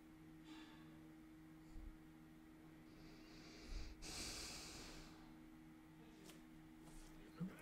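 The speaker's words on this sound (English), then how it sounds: "Getting the sniffles." Quiet sniffles and short snorting breaths come in a few bursts over a low, steady hum.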